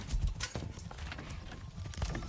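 Horse hooves clip-clop in Manor Lords, a quick irregular run of hoof knocks on hard ground, close and moderately quiet.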